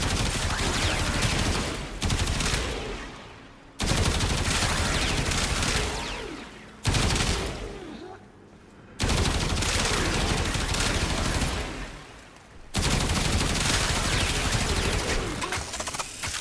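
Archgun fire in the game Warframe comes as sustained, loud automatic bursts, several long volleys separated by brief pauses, dense and rapid throughout.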